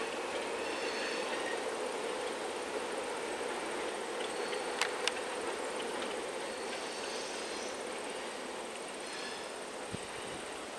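Adirondack Railroad train engine running at the summit of the line, a steady, broad rumble and hiss throughout with a couple of faint metallic clicks, heard from a moderate distance with no talking.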